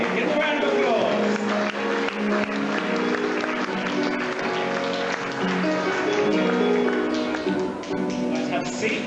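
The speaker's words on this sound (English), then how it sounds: "Give them a round of applause." An audience at a quiz show gives sustained applause, a dense steady clatter of clapping filling the room at close range, with voices mixed in beneath it.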